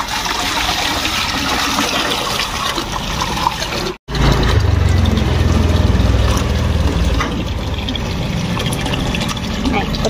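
Water runs steadily from a tap into a container at a rural home, a continuous broadband rush that stops abruptly around the fourth second, then resumes with a deeper filling gurgle; voices talk over it.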